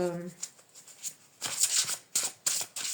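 Tarot cards are shuffled in quick papery bursts, with short crisp riffles and snaps standing out clearly over a quiet background, and a voice briefly heard at the very start.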